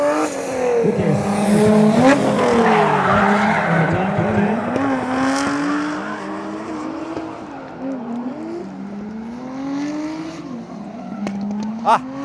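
Drift cars racing around a track, engines wailing and rising in pitch while tires squeal through long slides, loud and continuous for the whole stretch, with faint voices in the background.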